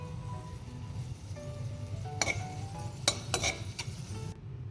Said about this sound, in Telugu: కిస్మిస్ వేగడం స్టార్ట్ అయింది ఇప్పుడు